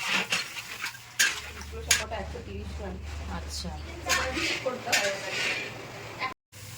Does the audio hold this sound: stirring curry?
yes